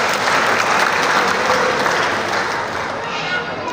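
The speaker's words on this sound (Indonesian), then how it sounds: "Kita berikan tepuk tangan buat NCIPS." An audience at the NCIPS school arts performance claps loudly and steadily, with dense, continuous applause filling the whole short stretch and easing slightly near the end.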